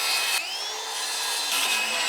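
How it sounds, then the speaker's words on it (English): A saw works steadily through a stick of wood with a continuous rasping, grinding stroke, the pitch shifting slightly partway through; close and fairly loud, no voices. "I can take these outside and cut them to size"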